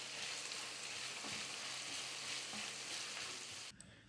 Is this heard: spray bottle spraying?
no